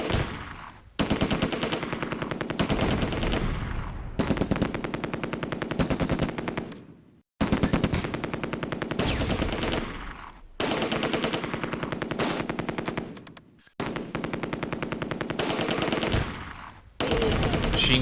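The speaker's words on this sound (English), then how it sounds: "Machine gun could do some mean damage." Sustained machine gun fire from a 30 cal in the Close Combat: A Bridge Too Far war game, loud rapid bursts of several seconds each, separated by short pauses.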